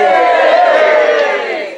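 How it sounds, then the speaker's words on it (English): A convention crowd at a furry event cheers and applauds, a loud, dense wash of voices and clapping that holds steady and then fades slightly toward the end. "thank you for that applause"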